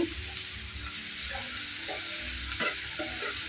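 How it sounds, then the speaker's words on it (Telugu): Chopped onions with a pinch of salt fry in a pan for egg burji, a continuous close sizzle with occasional stirring knocks and a faint tonal hum beneath. "సాఫ్ట్గా ఫ్రై అయితే చాలు. ఆనియన్స్ని బాగా మగ్గనిద్దాం."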